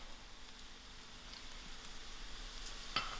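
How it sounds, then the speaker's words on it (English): Onions frying in a pan for a chicken chutney give a steady, even sizzle throughout, with a brief sharper crackle near the end and no voices. "And allow this to fry till it's slightly brown"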